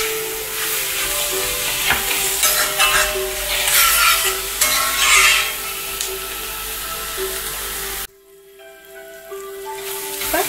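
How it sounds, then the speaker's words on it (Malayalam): Crushed garlic, ginger and green chilli sautéing in oil for lamb kidney pepper fry, a loud, steady hiss and crackle up close that cuts off abruptly near the end, leaving a quiet hum. "നമ്മൾ നേരത്തെ ചതച്ച് വെച്ചിരിക്കുന്ന വെളുത്തുള്ളി ഇഞ്ചി പച്ചമുളക് അത് ഞാൻ ഇട്ട് കൊടുക്കുകയാണ്"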